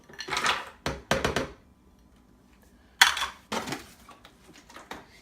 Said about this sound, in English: Drop the fruit in there.